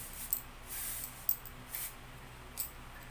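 A sunscreen spray can gives several short hissing bursts, a longer one followed by briefer puffs, close and fairly soft in a quiet room.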